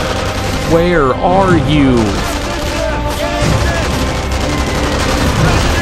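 Enemy gunfire in the sniper shooter Sniper Elite V2: sustained crackling shots and bursts from several directions, running under a voice and a brief game voice line.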